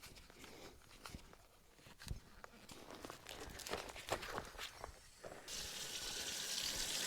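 A farm hose fills a cattle mineral feeder, water splashing and trickling at close range among footsteps and small knocks, then swelling into a steady, louder rushing stream near the end.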